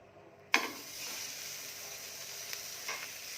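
Oil hitting a hot griddle used for burgers sets off a sudden loud sizzle that settles into a steady hiss with a few crackles, close by and with no voices.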